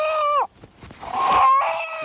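A rooster gives loud, harsh squawking calls nearby: one long cry that falls in pitch, a brief gap with scuffling, then another drawn-out shriek.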